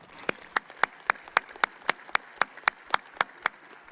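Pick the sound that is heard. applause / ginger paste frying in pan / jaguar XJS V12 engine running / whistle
applause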